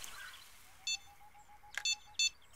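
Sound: fishing bite alarm beeping in Fishing Planet video game

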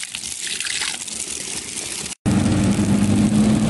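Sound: natural stream water flowing on mountain trail

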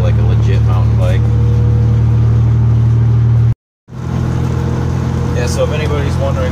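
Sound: V6 Ford Econoline engine with Magnaflow muffler

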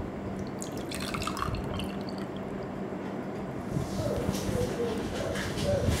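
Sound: pouring sugar solution into a container with an egg

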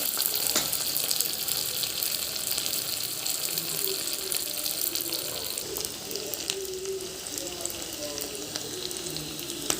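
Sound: mustard seeds, cumin, urad and chana dal frying in oil

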